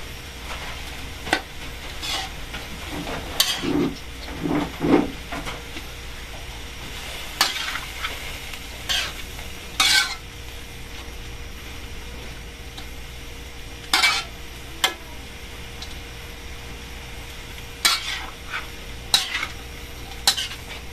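Bean sprouts and fried tofu are stirred in a pan, with a spatula scraping and clinking against the metal in scattered strokes over a steady low sizzle, no voices.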